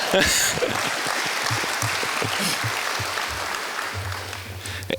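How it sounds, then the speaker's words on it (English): Guests at a 2018 university baseball banquet applaud in a steady crowd clap for about five seconds, with some murmuring and low voices mixed underneath as it carries on. "Come on, give me a round of applause."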